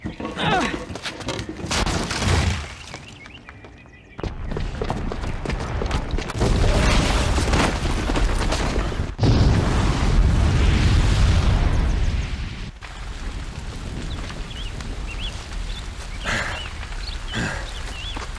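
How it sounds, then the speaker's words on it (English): A bomb blowing up in Horizon Zero Dawn, with a long run of loud booming blasts, roaring rumble and debris bursts that surge and shift over nearly twenty seconds. "the booby trap on the bomb downstairs is gonna get set off"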